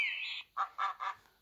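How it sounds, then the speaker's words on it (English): A duck quacks: one drawn-out nasal call followed by three short rhythmic quacks, close and clear with no other sound. "duck,"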